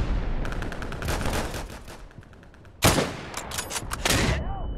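Gunfire in the World War II shooter Day of Infamy, a French 1944 battlefield scene, with a rattling burst of automatic fire followed by a loud close sharp shot and further cracking shots with echoing tails.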